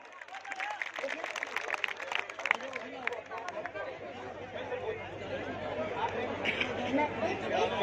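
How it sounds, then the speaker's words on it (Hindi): A crowd applauds to welcome chief guest Sachin Pilot at a village statue unveiling for martyr Mahesh Meena, with scattered sharp claps mixed into loud chatter and babble that carries on throughout. "एक बार जोरदार तालियों से अभिनंदन करें।"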